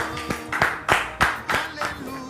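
Applause from a church audience welcoming a guest named Ivan, heard as uneven bursts of hand claps with a voice murmuring beneath.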